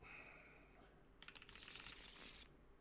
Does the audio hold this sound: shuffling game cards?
yes